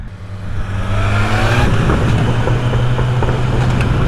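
A Kawasaki Z900 motorcycle engine revs up and holds a steady, throaty drone, loud and close, with its pitch rising briefly early on before settling into a sustained hum.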